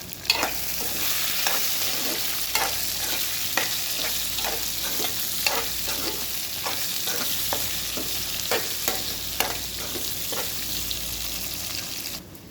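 Brinjal is stirred into softened onions in a frying pan for a fish and brinjal curry, giving a steady sizzle with repeated scraping strokes of the spoon at a close, even pace throughout.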